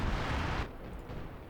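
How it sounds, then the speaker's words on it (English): Artillery barrages rumble in Company of Heroes 2, a dense roaring blast that cuts off abruptly after about half a second and leaves a lower, fainter rumble. "They're really just launching all their artillery."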